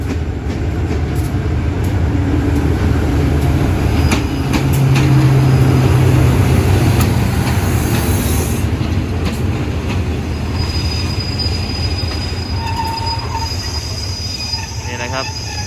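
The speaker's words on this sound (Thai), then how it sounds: "General Electric หมายเลข 4537 ทำขบวนมาครับผม สังเกตติดรถจักรดีๆนะครับ" Thai express train number 84 hauled by General Electric locomotive 4537 at Surat Thani station, a loud continuous roar of rolling wagons with high wheel squeal and scattered clacks, up close.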